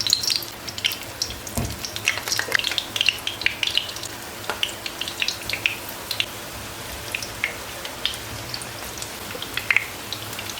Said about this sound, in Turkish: patlıcanları bir havlu kağıtla silip öyle kızartın yoksa her yere sıçrar